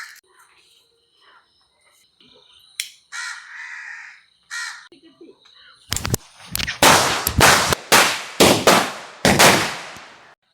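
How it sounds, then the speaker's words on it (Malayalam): A 40-piece string of Diwali firecrackers goes off outdoors. After a quiet start with a few crow caws, a rapid volley of loud, sharp bangs fills the last few seconds. "40 രൂപയ്ക്ക് 40 പടക്കം."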